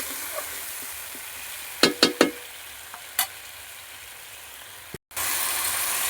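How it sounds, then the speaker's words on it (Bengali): Spice paste being fried and stirred in a pan for a Bengali dish, with a soft steady sizzle and a few sharp scraping clicks of a spoon against the pan, then a brief silence followed by a louder hiss. "ভালো করে এরকম মশলাটা ভালোভাবে কষিয়ে নেব।"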